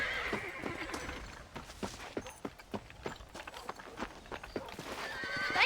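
A horse in Red Dead Redemption whinnies loudly at the start and end, with steady clip-clopping hooves in between, close and clear.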